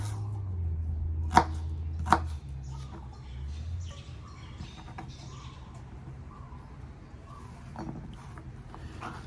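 Two sharp knife chops on an onion near the start, then quieter scattered cutting over a low hum, with faint chirps in the background.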